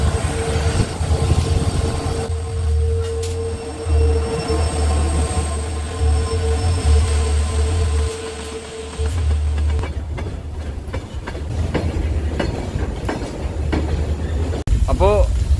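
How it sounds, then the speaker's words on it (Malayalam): A goods train rolls slowly past on the single track near Dudhsagar in Goa's Braganza Ghat, with a loud, close, steady rumble, a sustained horn or engine tone, and wheel squeals near the end. "ആ ഒരു ഗുഡ്സ് വരാൻ വേണ്ടി വെയിറ്റ് ചെയ്തായിരുന്നു"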